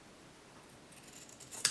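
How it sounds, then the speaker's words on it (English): Scissors snipping through quilting fabric, a quiet run of soft cutting strokes that builds toward a sharper, louder snip near the end, with no talking. "we're going to go ahead and cut our fabric so it'll fit inside of here"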